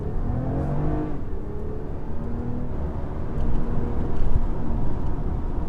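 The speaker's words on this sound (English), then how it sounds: "It actually sounds pretty good, surprisingly, with the catback exhaust." A 2020 Toyota Camry TRD with its V6 and catback exhaust rumbles steadily at close range, its pitch rising in revs toward the end, with no talking.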